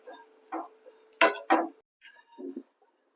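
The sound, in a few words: prawn shells frying in a pan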